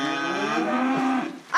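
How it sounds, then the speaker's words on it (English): Cattle being fed give a single loud, drawn-out moo nearby, followed by a brief rustle at the end. "So just feeding the cattle right now, giving them some water."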